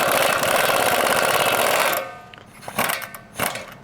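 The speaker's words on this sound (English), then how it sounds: "So we're going to go ahead, loosen this," Impact-style power tool loosening a suspension nut on a 2022 Chevy Silverado Trail Boss during a 1.75-inch lift install: a loud, close, rapid hammering buzz for two seconds, then stops, followed by a few clanks of metal handling.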